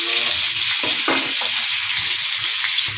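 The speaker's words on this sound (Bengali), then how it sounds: "হচ্ছে এটা করলা ভাজি করতেছে" Bitter gourd (karela) frying in a pan gives a loud, dense, continuous sizzle up close, with a few soft stirring knocks underneath and no voices.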